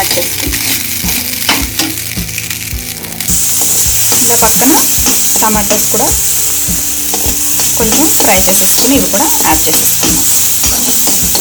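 Capsicum and potato curry with tomatoes fries loudly in a pan, broad steady sizzle throughout with repeated scraping stirs of a spatula, growing fuller after the first few seconds.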